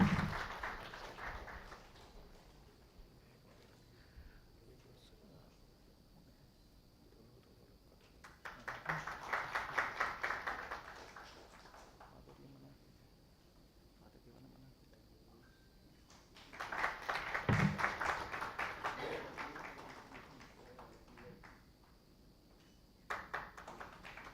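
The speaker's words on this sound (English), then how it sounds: "a big round of applause." A conference audience claps in two separate rounds of applause, each swelling for a few seconds and then fading, fairly distant and soft, with quiet room tone in between.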